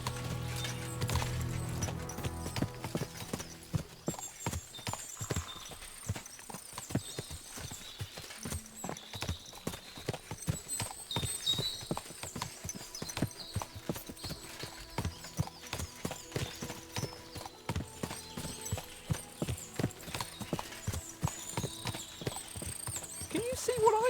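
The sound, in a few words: horses' hooves clip-clopping in video game Kingdom Come Deliverance 2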